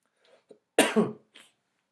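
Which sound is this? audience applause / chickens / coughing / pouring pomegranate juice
coughing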